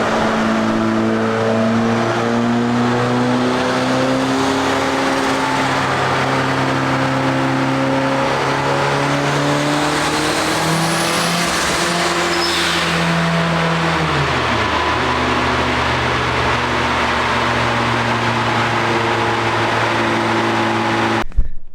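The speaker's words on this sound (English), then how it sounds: "So the red Civic did its first pull on the dyno, and it survived." A boosted Honda Civic hatchback engine on a dyno pull, droning loudly and steadily with rising and falling harmonics as revs climb, briefly dip and climb again, continuous and close throughout with no talking.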